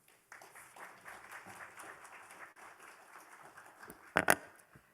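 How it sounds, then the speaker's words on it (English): Conference audience applauding a speaker at an academic event, a moderate, even patter of claps with a couple of sharper, louder claps near the end before it fades out. "So applause for Judith, please."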